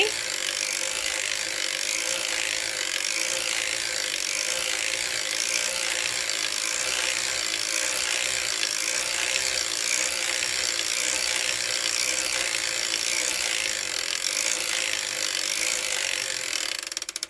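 A circular sock knitting machine is cranked steadily through rows of yarn for a toe-up sock, giving a continuous, even mechanical clicking and rattling that stays close and unchanging throughout, with no talking.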